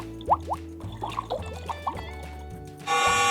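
Water effects from an augmented reality aquarium phone game: quick bubbly plops and gurgles sound over a low hum, then a louder steady watery wash takes over near the end.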